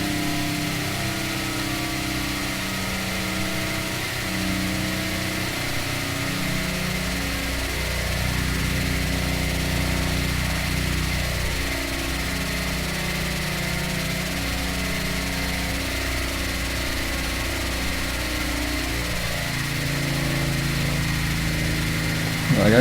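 A vehicle engine in the game Stormworks held at full throttle, a steady droning hum with slowly shifting tones that runs unbroken for over twenty seconds.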